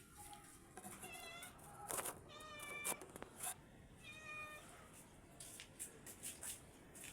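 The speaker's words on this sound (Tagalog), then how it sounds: "Ito yung alaga kong pusa." A pet cat meows several times, short thin mews spaced a second or so apart over quiet outdoor background noise, fairly close but soft, with faint rustling between calls.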